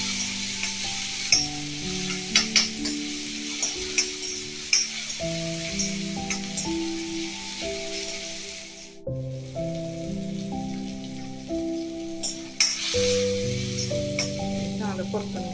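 Tomatoes sautéing in a pan, a continuous crackling sizzle with bursts of spatula scraping and tapping, interrupted briefly partway through by a quieter gap.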